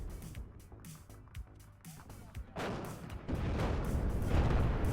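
Leopard tank cannon fire in the WARNO real-time strategy game, with a heavy rumbling burst building in the second half over battle noise; a faint voice murmurs under it.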